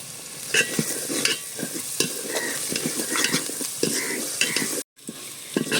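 Chicken masala with turmeric and coriander powder sizzling in a pan while a spoon stirs and scrapes it, close and busy with rhythmic scraping bursts, a brief gap near the end.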